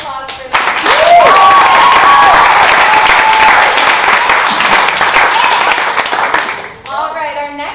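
A theatre audience at a comedy class showcase breaks into loud, sustained applause with cheers and whoops that holds steady for several seconds and then tapers off, while voices rise through it near the end.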